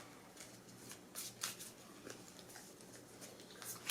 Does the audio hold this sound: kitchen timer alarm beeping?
no